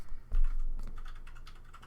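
Keys on a computer keyboard clack rapidly and steadily, close up, with a loud thump near the start and then continuous irregular tapping with no voices.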